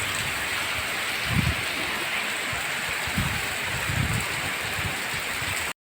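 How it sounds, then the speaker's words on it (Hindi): Heavy rain pours steadily over a mountain village, a dense continuous hiss with a few low thuds of water hitting surfaces, and no voices. "आज का मौसम देखिए, कितनी बारिश हो रही है, काफ़ी तेज़ बारिश हो रही है।"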